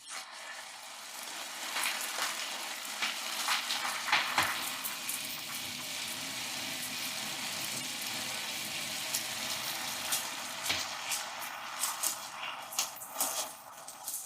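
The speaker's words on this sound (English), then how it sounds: "Now just let it cook until the broth dries up." Chicken with ginger simmering in a soy sauce broth, a continuous bubbling sizzle with occasional clicks and stirring knocks, close and steady throughout.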